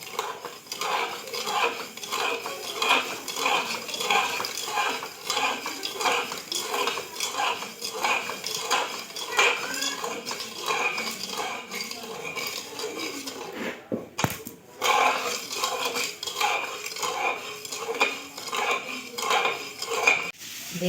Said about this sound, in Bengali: এবারে ভালো করে খুন্তিয়ে নাড়িয়ে নাড়িয়ে চিনিকে আমি গলিয়ে নেব।